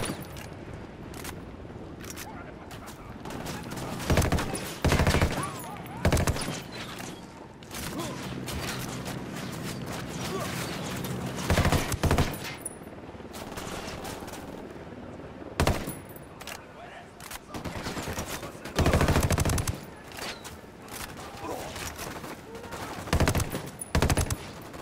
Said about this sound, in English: We gotta love grenade launchers.